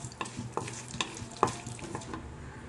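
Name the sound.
urad dal and chana dal frying in oil in a kadai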